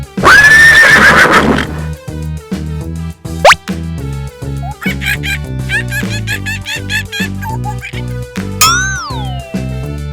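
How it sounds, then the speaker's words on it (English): A cartoon horse neighs loudly in a long whinny at the start, followed by bouncy children's toy-train music with plops, boings and slide-whistle effects. "Horse."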